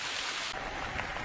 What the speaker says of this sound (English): I listened to the rain on the leaves,